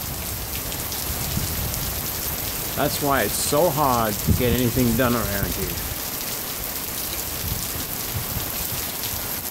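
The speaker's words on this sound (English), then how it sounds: "Our daily rainstorm." Steady broadband rain falls on surfaces throughout, with a voice talking over it in the middle stretch; a routine daily rainstorm, constant and fairly close.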